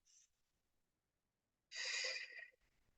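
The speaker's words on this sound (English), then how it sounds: "Now I'm audibly breathing so you can hear what I'm doing" A brief soft exhale, a quiet pause, then a long, audible breath drawn deeply and close up, with no talking.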